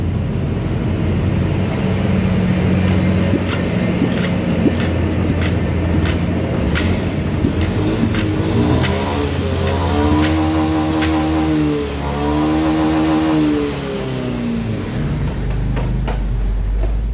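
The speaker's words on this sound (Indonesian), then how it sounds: "Motornya hidup" A Honda Verza motorcycle with a newly replaced piston, now smoking and running rough, idles loudly and steadily up close, then swells through a few throttle blips and settles back to idle.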